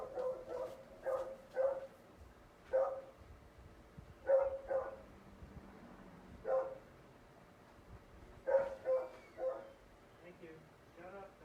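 Dogs indoors bark at a mail delivery, giving a scattered run of short, fairly faint woofs, some doubled, across several seconds, with a voice talking softly at times.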